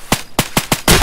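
Rapid gunfire from Escape from Tarkov, five loud close shots in quick succession, the last burst heavier and denser, with no talking.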